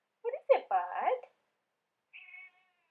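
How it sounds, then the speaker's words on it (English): A pet cat meows several times in a short burst, close and clear indoors, followed after a pause by a fainter, higher drawn-out call. "Sorry guys, that's one of my cats."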